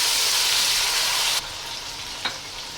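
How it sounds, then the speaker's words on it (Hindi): Chopped tomatoes hitting hot oil with browned onions in a pan for beef kofta pulao give a loud, steady sizzle that drops sharply to a softer frying hiss midway, with a brief clink near the end. "अब इसके अंदर हम डालेंगे टमाटर।"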